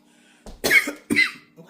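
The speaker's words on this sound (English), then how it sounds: "I don't want nothing that's going to make me cough like that." Two harsh, close coughs in quick succession, each a short rough burst, with a softer throat sound after, in an otherwise quiet room.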